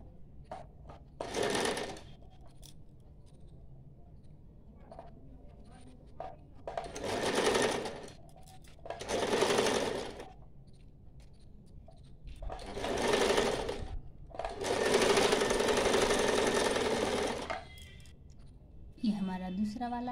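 Sewing machine stitching a cloth face mask, several separate bursts of whirring motor and needle chatter lasting a second or two each, close and clear, separated by quiet pauses and soft handling of fabric.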